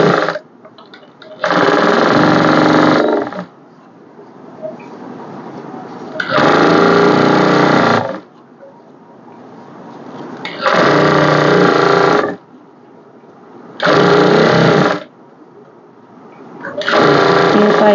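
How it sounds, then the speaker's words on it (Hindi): A sewing machine stitches piping onto a blouse in four loud, steady bursts of rapid whirring, separated by quiet pauses with faint background sound. "पूरी पाइप इन पे यहीं सिलाई कर दूंगे मैं यार"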